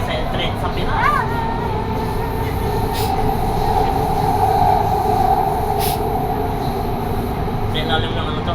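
A driverless Doha metro train runs underground toward Mall of Qatar, a loud continuous rumble of wheels and carriage with brief squeals and chimes, under steady talk from passengers riding aboard.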